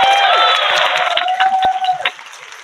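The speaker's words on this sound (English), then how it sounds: "So, if you give them a round of applause," Audience applause at a Twelfth Night court and coronation gathering, a dense wash of clapping that holds steady for about two seconds and then tapers off.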